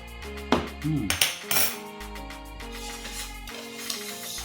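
Metal spoon clinking and scraping against a bowl while homemade mayonnaise with black or white pepper is stirred, a burst of quick rattling strikes early on, then softer steady scraping, close and fairly loud, with no talking.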